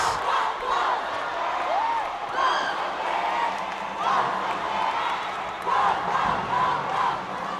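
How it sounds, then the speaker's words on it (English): A basketball crowd chants in a loud, rhythmic, repeating pattern during Game 1 of the finals between St. Clare College and Centro Escolar University, with steady swells of massed voices throughout. "Listen to the chants."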